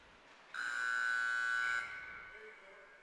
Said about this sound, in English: I don't know why they blew the buzzer,